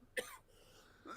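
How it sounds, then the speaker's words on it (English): A single sharp cough sounds at a moderate distance, followed by a faint rasp and a second softer throaty sound at the end, with the background otherwise quiet. "Oh, cue the cough. Cue the cough."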